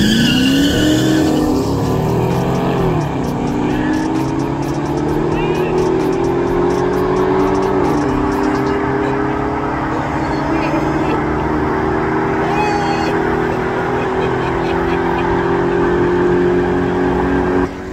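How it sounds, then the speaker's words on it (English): Cars including a BMW 650i, Dodge Charger RT, Audi A6 and Audi S5 launch in a street drag race, engines roaring and rising through gear changes with tire squeal, loud and sustained, under excited talk from onlookers. "Here goes this race because they get ready to launch."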